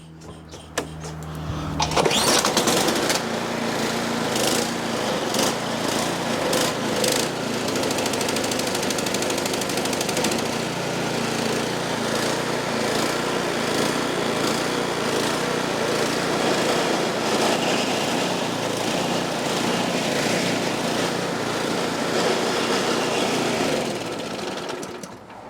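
A Husqvarna snow blower engine starts up and runs, a loud, steady small-engine drone with a buzzy, rattling texture holding for over twenty seconds before dropping away at the end.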